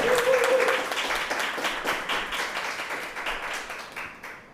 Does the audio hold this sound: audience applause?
yes